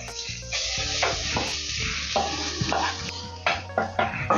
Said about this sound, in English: The onions have taken on a nice brown color, so I'm going to add the Sukuma Wiki at this point.